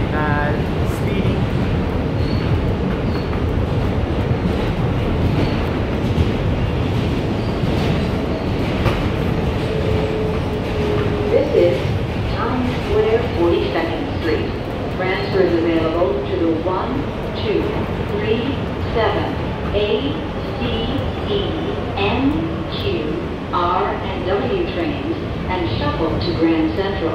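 Siemens-built R160B car on the NYC Subway F line running express, a steady loud rumble of wheels and track with clattering joints throughout, someone talking over it at times.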